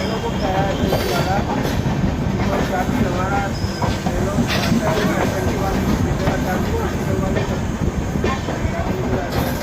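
Odisha Sampark Kranti Express rolling on rails on the approach to Kanpur Central, with a steady, loud rumble of wheels and carriage noise throughout and faint voices mixed in.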